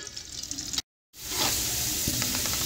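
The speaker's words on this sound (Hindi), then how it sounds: "मैं इसके अंदर प्याज ऐड कर दूंगी और पहले हम प्याज को फ्राई कर लेंगे" Onions sizzle and fry in hot cooking oil in a pan, a steady crackling hiss that drops out briefly for a moment, then returns louder and fuller with occasional pops.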